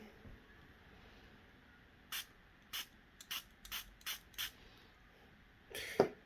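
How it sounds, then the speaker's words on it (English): Several short hissing bursts of aerosol spray onto a Hornby J94 model locomotive, spaced irregularly, then a longer spray near the end, all fairly quiet against a hushed room. "just got to give this loco a light spray"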